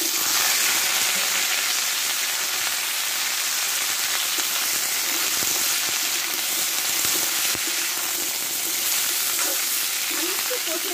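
Drumstick stems frying in oil with dry chilli and panch phoron, a loud continuous sizzle with crackling spits throughout, close up and steady.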